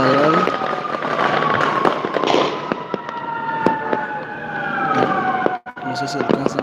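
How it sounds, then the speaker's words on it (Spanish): A fire engine siren wails in the distance, a steady rising-and-falling tone drawn out under a busy New Year's night scene with popping fireworks and firecrackers and some voices nearby. "desde aquí se escucha ambulancia de bomberos"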